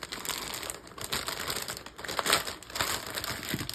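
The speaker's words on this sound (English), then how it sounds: "We're going to take a plastic bag." Continuous close-up crinkling and crushing of thin plastic, rustling in uneven bursts without any voices.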